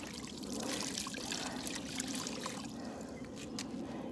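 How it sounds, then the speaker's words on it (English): A car wash mitt dunked and wrung out in a bucket of plain water, giving close, continuous splashing and trickling with dribbles falling back into the bucket, no voices. "I'm just going to get it wet and wring it out."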